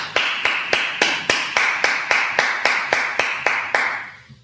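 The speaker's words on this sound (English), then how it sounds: "let's clap it up" Group of people clapping in unison at a gathering, about a dozen sharp, evenly spaced claps in a steady rhythm, loud and close, with a brief echo after each.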